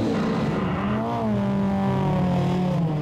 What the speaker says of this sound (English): We got the high horsepower Pontiac GTO, but the nimble little Corolla hanging tough.